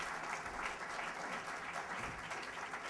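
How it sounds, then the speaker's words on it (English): A conference audience gives panelists a sustained round of applause, dense, even clapping filling the room throughout. "let's give our panelists one more big round of applause"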